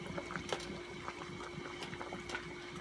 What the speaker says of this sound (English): it's boiling really, really good